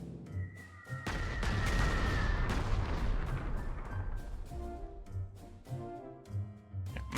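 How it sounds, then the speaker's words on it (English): Carpet bombing in the Panzer Corps 2 strategy game, a dense, sustained barrage of overlapping booms and gunfire-like blasts that rumbles loudly throughout, with scattered sharper impacts toward the end. "And then we'll carpet bomb you."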